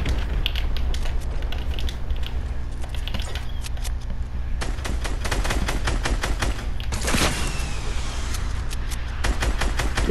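Rapid gunfire in the Fortnite video game sprays at a tree in long bursts, loud and close, with sharp repeated cracks and a heavier impact near the seven-second mark.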